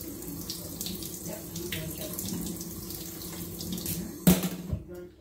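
Tap water runs steadily into a kitchen sink as a spoon is rinsed under it, a continuous close splashing hiss that ends with a brief clatter before the flow stops.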